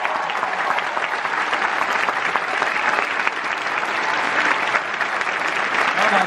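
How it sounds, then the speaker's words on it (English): Theatre crowd at the Lowry gives sustained, dense applause after a performance of the Come From Away UK tour, loud and unbroken with a few cheers mixed in. "Oh my God, their applause"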